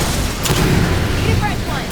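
A grenade blast in Aliens: Fireteam Elite 2 lands as a loud, heavy boom that rolls on amid continuous battle noise, close and dominant throughout.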